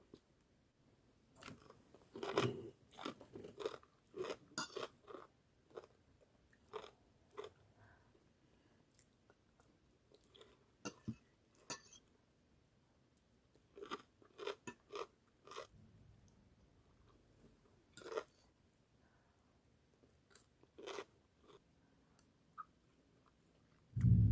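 Close, quiet chewing and crunching of som tam papaya salad with fried egg, irregular bites and mouth clicks spread across the stretch with pauses between mouthfuls.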